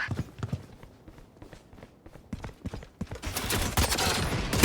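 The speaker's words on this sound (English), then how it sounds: "Let the bullets fly." Rapid bursts of gunfire in the shooter game VALORANT, sharp repeated shots crowding together and growing into a dense, loud barrage toward the end, with faint talk underneath.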